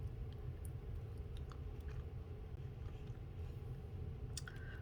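Someone slowly chews a very chewy, gummy-like Czech snack, soft moist squishes and faint bites close to the mic with a few small clicks, quiet and without talk.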